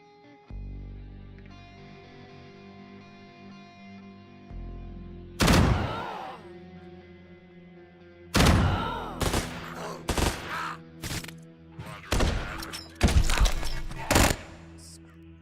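Gunfire in the turn-based game Quasimorph: loud, sharp bursts and single shots arriving in uneven clusters after a quieter stretch of tonal game sounds, close and punchy, with no talk.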